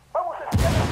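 A frag grenade explodes in the video game Ghost Recon Wildlands, a sudden loud broadband blast that rumbles on after a brief whooshing tone just before it.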